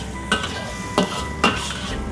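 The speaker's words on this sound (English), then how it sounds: "that flame that's coming up there, that's great, that's wok breath" Krapao being stir-fried in a hot wok over a high flame, with three distinct scraping stirs of a metal utensil against the pan over a steady background sizzle.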